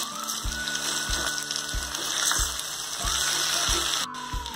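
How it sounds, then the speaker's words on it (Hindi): Vermicelli noodles tossed and stirred in a pan for South Indian–style upma, a steady sizzle with faint scraping and a regular low thumping rhythm underneath, close and moderately loud. "अब इसमें ये वर्मीसेल डालेंगे, सेवैया को भी अच्छे से मिक्स करेंगे।"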